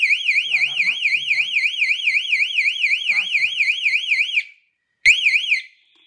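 A loud electronic wired security alarm warbles rapidly and continuously after detecting motion, stops abruptly, then briefly sounds again, with brief faint speech underneath.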